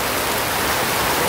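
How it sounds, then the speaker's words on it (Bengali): Sudden heavy rain pours down in a steady, dense hiss that fills the short stretch evenly at close range, with no voices over it. "গাইস বৃষ্টি শুরু হয়ে গেছে। আরে রে কি বৃষ্টি,"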